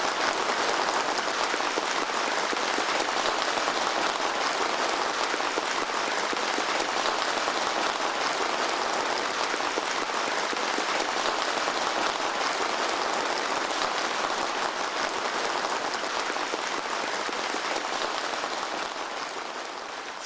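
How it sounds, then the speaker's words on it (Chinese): Warm, sustained applause from an audience of retired veteran officers at a Chinese New Year military gala in Beijing. The clapping is dense and steady for about twenty seconds and eases off slightly at the end. "全场响起热烈掌声"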